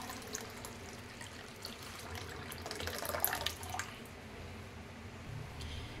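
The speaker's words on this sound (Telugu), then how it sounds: "ఇంకొంచెం నిండుగా నీళ్ళు పోస్తానండి." Water is poured into a thin moong dal rasam with tamarind, a soft, fairly faint trickling and splashing that swells briefly in the middle before settling back to a quiet flow.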